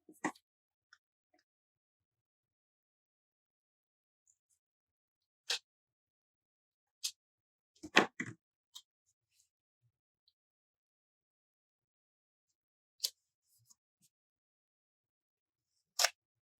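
Paper is cut for a planner with scissors in a quiet room, giving a few sparse, soft snips and light rustles separated by long silences, close to the listener.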